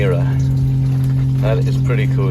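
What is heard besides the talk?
water maker running on a sailing boat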